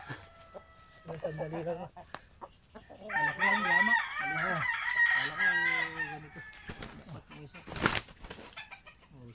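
A rooster crows loudly several times on a farm while hens cluck and wings flap, close by, with a person briefly talking in between.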